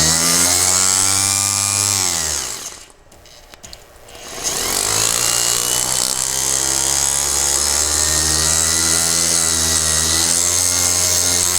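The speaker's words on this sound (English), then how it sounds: "I got my Dremel all hooked up. I'm going to start working on this scratch" A Dremel rotary tool whines steadily with a high motor tone while polishing a scratched watch crystal, cutting out briefly in the middle before spinning back up to a loud, continuous buzz.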